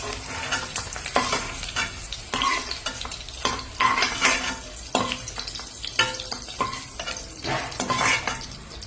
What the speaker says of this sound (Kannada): ಈಗ ಇದು ಬೆಂಡೆಕಾಯಿ ಆಗಿದೆ, ಫ್ರೈ ಆಗಿದೆ ಚೆನ್ನಾಗಿ